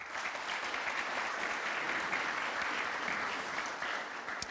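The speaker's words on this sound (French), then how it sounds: "Je pense qu'on peut applaudir nos intervenants." An audience claps steadily after a round-table panel on the RE 2020 building label, a dense even applause that holds at a fairly constant level for the whole stretch with no voices over it.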